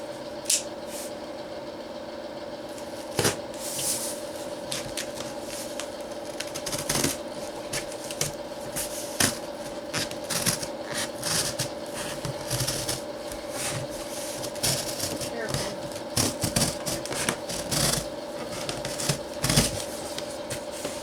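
Cardboard being cut out by hand to make a box oven, heard as irregular crisp snips and scraping cuts, some sharp and close, over a steady low background hum with no talking.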